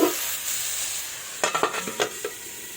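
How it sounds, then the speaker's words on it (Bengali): Potatoes and cauliflower fry in a pan, a steady sizzle close by with a short burst of several quick scraping stirs near the end, no talking. "এবার একটু নেড়ে চেড়ে ঢাকা দিয়ে লাল লাল করে ভেজে নেব।"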